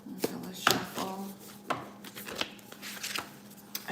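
Tarot cards are shuffled by hand in a quiet room, with soft, irregular riffles and rubbing flutters close by and no talking.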